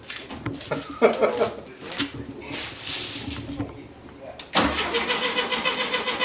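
A Volkswagen Beetle engine is cranked over by its starter, with a rough churning run of mechanical noise breaking in loudly after a stretch of nearby talk and garage background.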